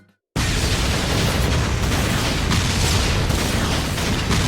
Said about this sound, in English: The final bomb is set off by this lighter instead of a cigarette